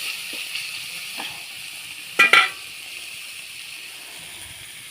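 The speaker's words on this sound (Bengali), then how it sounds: "চিংড়ি মাছটা খুব বেশি ভাজবো না," Prawns seasoned with salt and turmeric fry lightly in a pan, giving a soft, steady sizzle with one brief clatter midway.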